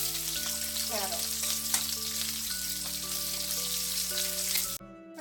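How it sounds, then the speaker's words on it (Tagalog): Carrots half-frying in oil in a wok for pork spareribs caldereta: a steady, dense sizzle with occasional stirring scrapes, close and continuous, with a brief quieter dip near the end. "na prito na natin yung ating carrots"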